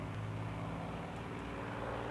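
A propeller airplane flying in a video game, a steady droning engine hum that stays even and fairly quiet throughout.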